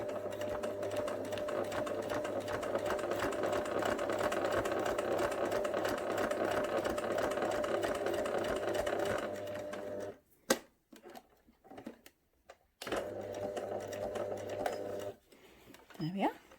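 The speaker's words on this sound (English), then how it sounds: "then I'm going to sew forwards to this orange pin for the other ear gap" A sewing machine runs a seam on a fabric flat cap with a steady, fast mechanical whir for about ten seconds. It stops, a few clicks and handling noises follow, and then it runs briefly again under quiet speech.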